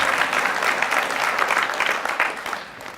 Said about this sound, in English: you can clap for everybody, that's fine.